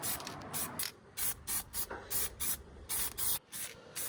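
Aerosol spray paint is applied to car brakes in short, regular hissing bursts, about ten in quick succession, close and fairly loud, with brief gaps between them and no talk.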